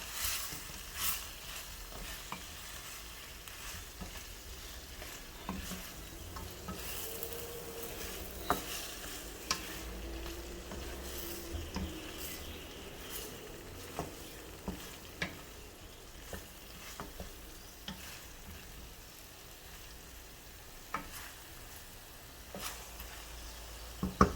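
Green and red chillies frying in oil for sambal chicken, a soft continuous sizzle with scattered clicks of a spoon stirring against the pan, quiet and close, with no voices.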